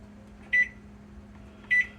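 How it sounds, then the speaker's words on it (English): A kitchen timer set while yeast bread bakes in the oven gives two short, clear electronic beeps about a second apart over a quiet background hum. "Let me go ahead and set my timer."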